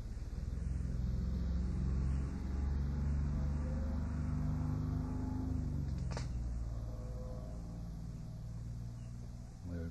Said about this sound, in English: Let's wait for the truck to go by.